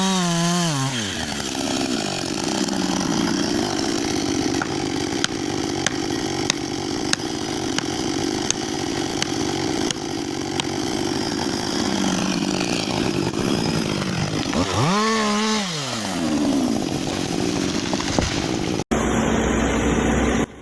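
A chainsaw runs loud and steady through the base of a tree for about twenty seconds, its engine pitch sagging and rising as the chain bites into the wood, while a heavy pusher arm works nearby to guide the trunk's fall.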